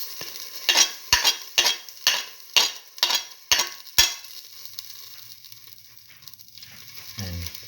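Fenugreek and fennel seeds fry in a pan, starting with about eight sharp, rhythmic scrapes and clacks of stirring, then settling into a soft, low sizzle with a faint clunk at the end.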